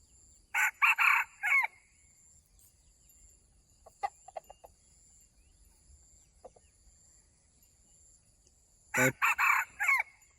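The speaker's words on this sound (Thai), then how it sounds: "ได้ยินเสียงไก่ต่อเราอยู่นา" A rooster crows twice, loud and near, one call at the start and another near the end, with faint bird chirps in the quiet between.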